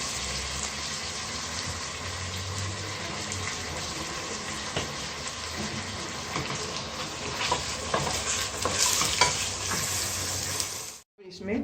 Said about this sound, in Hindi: चिकन पर हल्का भाग नमक डालकर इसको फ्राई करते हैं